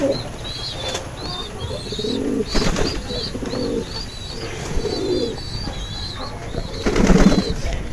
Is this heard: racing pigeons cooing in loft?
yes